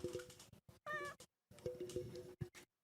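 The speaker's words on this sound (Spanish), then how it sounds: "Es que ha maullado muy bajo" A cat meows softly in a quiet room, several short and drawn-out faint mews with gaps of silence between them.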